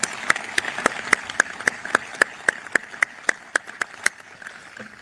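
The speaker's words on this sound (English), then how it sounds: "A round of applause for these two awesome young men." At the SOUTHCOM headquarters change-of-command ceremony for Adm. Holsey, evenly spaced sharp claps ring out in a steady, quick rhythm for about five seconds, fairly crisp and close, with no talking over them.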